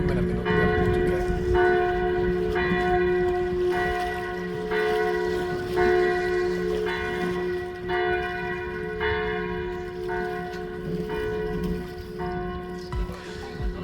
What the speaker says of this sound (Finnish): ne soittaa joka välissä mitä kirkonkelloja